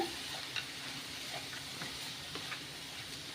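Cooled rice is stirred into sautéed cucumber in a pan for cucumber rice, a steady, fairly quiet frying hiss with faint scraping strokes throughout.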